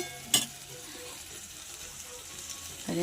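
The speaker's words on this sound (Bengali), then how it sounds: "দেখুন মশলাটা ভাজা হচ্ছে" Spices fry in a pan with a continuous soft sizzle, opened by a brief clatter of a utensil and ending with another clink, no talk over it.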